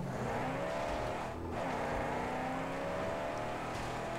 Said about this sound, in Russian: Рев тачки, конечно, зверский.